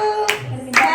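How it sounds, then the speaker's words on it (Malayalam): Several people clap at a child's birthday party in a flat, two short bursts of hand claps separated by a brief pause, fairly close and moderately loud. "കൈയടിക്ക് കൈയടിക്ക്"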